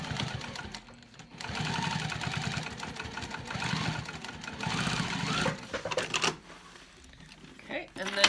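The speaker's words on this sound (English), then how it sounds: "just stop your stitch line and then you can just back stitch over where you stopped at" A sewing machine back stitches a seam on a backpack in close, rattling bursts of rapid stitching, stopping and restarting, while a person talks over it.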